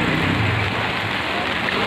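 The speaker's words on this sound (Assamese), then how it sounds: "বৰষুণ আহি আছে" Heavy rain pours over Kokrajhar town during a flooding downpour, a dense, steady roar of water with a low rumbling undertone and no voices.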